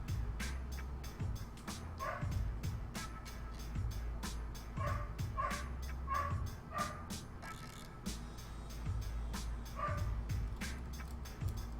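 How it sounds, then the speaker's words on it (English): Dogs barking in repeated short bursts with a few higher yips, heard at a moderate distance and fairly faint against a steady low background hum. "Why must dogs be loud?"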